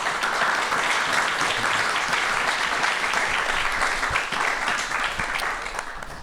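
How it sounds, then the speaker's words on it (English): A room of guests at an LGBTQ Chamber of Commerce gathering breaks into sustained applause for four speakers, dense overlapping claps holding strong before easing off slightly at the end. "Please, a big round of applause for them."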